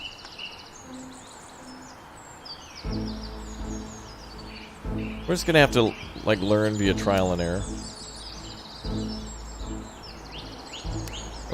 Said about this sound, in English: Birds are loud?